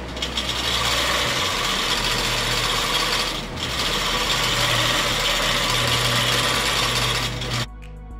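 A longarm quilting machine stitches a feather pattern with a steady mechanical whir and rapid needle ticking, pausing briefly midway before running on and then stopping.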